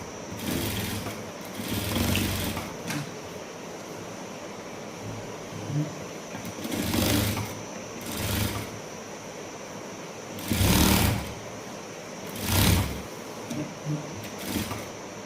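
A sewing machine stitching a jumper blouse whirs in several short bursts of about a second each, separated by quieter gaps, close by with a low background hum.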